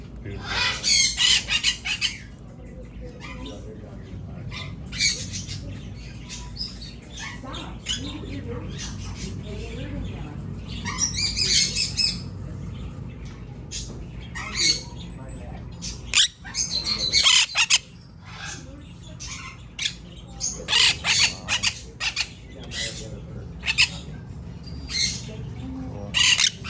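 Parrots in a parrot retail store give repeated loud, harsh squawks and shrill calls in bursts across the whole stretch, with quieter chatter and people talking in between.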